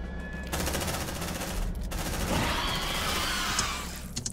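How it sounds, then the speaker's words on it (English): Sustained gunfire in the sci-fi game Aliens Dark Descent, a dense loud burst of rapid shots lasting several seconds, with a brief gap before the fire resumes and then dies away. "Shotgun."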